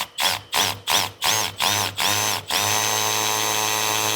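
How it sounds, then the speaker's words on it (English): A power drill fitted with a hole saw bores through the layers of an RV door, cutting in several short loud bursts that stop and start before settling into one steady whine, close up with no talk. "when I get through that second layer, I obviously don't want to drill through the screen on the other side"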